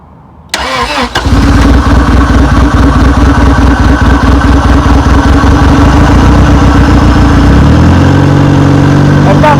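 A turbocharged Honda Integra with 1000 cc injectors cranks and catches loud and close, settling into a steady rough idle that churns on without a break, with the oil line off to prime the system.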